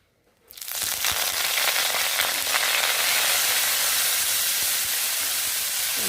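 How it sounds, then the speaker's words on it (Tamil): Fresh coriander leaves hit hot oil and burst into a loud, steady sizzle and hiss that starts abruptly after a brief silence and holds strong throughout. "இதை வதக்கிடுவோம்."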